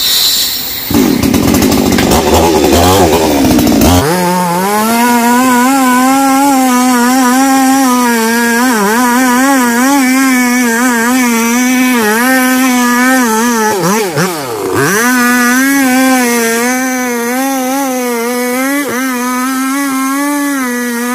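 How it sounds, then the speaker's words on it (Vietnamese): A small chainsaw runs loudly and steadily as it cuts into the base of a large leaning mangrove apple tree, its engine pitch dipping and rising under load for about twenty seconds after a brief rough start. "Máy cưa hết xăng rồi, phải lấy máy nhỏ cưa mở miệng."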